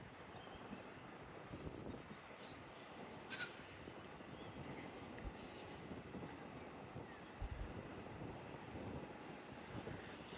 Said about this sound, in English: think it's a grain or wood train